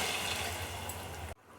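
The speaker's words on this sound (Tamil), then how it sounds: "2 பவுல் அளவுக்கு தண்ணி ஊற்றிக்கலாம்." Water pours steadily into a cooking pot for rice, a continuous rushing splash that cuts off abruptly near the end.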